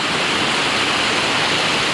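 Judy Falls on the Cross River in the Boundary Waters roars as a steady, loud, broadband rush of falling water, close and unbroken.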